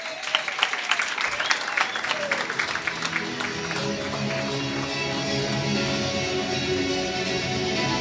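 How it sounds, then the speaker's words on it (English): Applause from a gala dinner crowd at a teachers' union merit awards evening, dense clapping that fades within a few seconds into a sustained hall hum with music-like tones underneath. "Can we give them a round of applause?"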